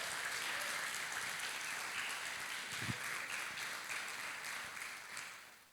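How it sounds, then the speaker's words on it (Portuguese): Congregation applauding during a church service, a steady wash of clapping from many hands that holds throughout and fades out near the end. "Vamos aplaudir o Senhor Jesus?"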